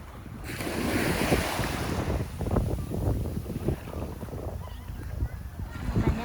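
Ocean waves wash onto a beach in Kanagawa, Japan, a continuous surging roar with wind buffeting the microphone and someone talking over it.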